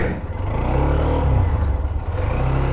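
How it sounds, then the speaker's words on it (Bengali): A Hero Xtreme 125R 125 cc motorcycle engine runs with a steady, smooth low hum that stays fairly loud and even throughout, with no voices. "অনেক বেশি লাউড না বাট স্মুথ একটা শব্দ আসতেছে তাহলে চলেন বাইকটা রাইড শুরু করা যাক"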